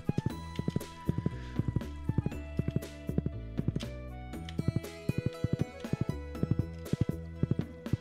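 Horse hooves clip-clop in a steady walking rhythm while riding in the Stardew Valley video game, fairly close and clear over a tonal music bed, with no talk.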